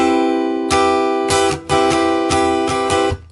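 A guitar is strummed in a funk style with fretting-hand mutes, giving loud, close chord strums broken by short scratchy muted chops in a syncopated rhythm.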